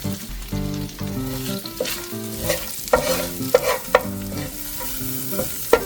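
Garlic and ginger sautéing in melted butter, a steady sizzle under repeated clinks and scrapes of a utensil against the pan, with a faint tonal hum in the background, no voices.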